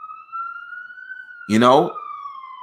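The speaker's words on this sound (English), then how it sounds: "sorry, these ambulances coming by" An ambulance siren passes during an interview, a steady wailing tone that holds across the stretch at moderate level, with someone speaking briefly over it partway through.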